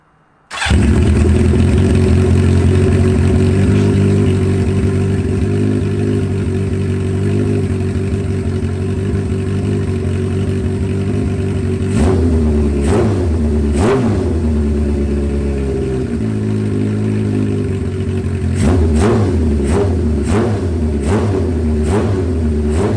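An old carbureted engine in a project vehicle, with one carburetor overflowing, catches after a brief crank and settles into a loud steady idle, then is blipped in several sharp revs near the end.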